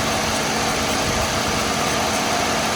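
A Dodge Charger 2.7 engine with an overheating fault idles steadily at close range, a continuous mid-pitched hum with a rough vibrating rumble and no talking.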